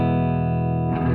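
Clean electric guitar through a Fender '68 Custom Pro-Reverb amp, a steady sustained chord ringing loud and close, with a fresh strum near the end.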